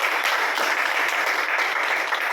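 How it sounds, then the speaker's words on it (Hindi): An audience at an RCM business motivational talk breaks into loud, even, continuous clapping that fills the short stretch without pause. "एक बार शानदार ताली बजा दीजिए।"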